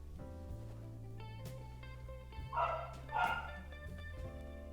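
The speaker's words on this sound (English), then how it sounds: "The dogs are barking." A dog barks twice, fairly far off, over a low steady hum and faint background tones.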